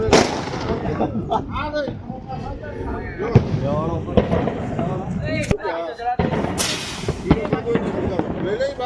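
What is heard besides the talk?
firecrackers bursting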